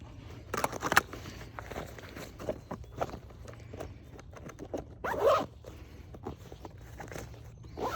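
A clothing zipper on a gear or holster setup at a shooting range rasps in several short, close pulls, mixed with light shuffling and footsteps.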